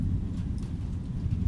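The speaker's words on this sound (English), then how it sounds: "Rain for days." Steady rain with low rumbling thunder, a dense hiss of drops over a deep continuous roll, moderately loud and unbroken, with no voices.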